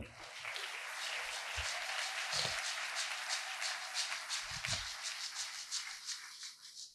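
A church congregation applauds at a sermon, a sustained wash of many hands clapping that fills the space evenly for several seconds, with a few low thumps and murmurs underneath.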